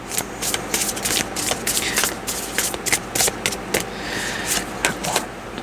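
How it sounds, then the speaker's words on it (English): Tarot cards are shuffled up close in quick, crisp riffles and slaps that repeat in an uneven rhythm, with no talking over them. "I'm going to shuffle one more time."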